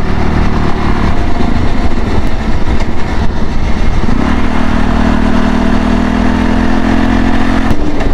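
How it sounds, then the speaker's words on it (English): A police motorcycle passing close by on the road, a loud continuous engine roar with a rising then steady tone, heard alongside heavy traffic and wind noise. "That was a motorcycle cop."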